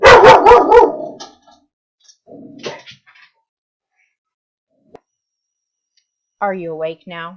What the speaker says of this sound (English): You'll have to excuse my dog for barking.